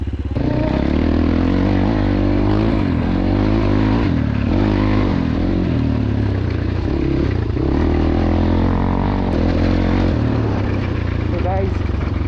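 RM250 and Xz250RR motorcycles drag race with a loud, continuous engine drone and rising revs, close to the microphone, with talk partly mixed in.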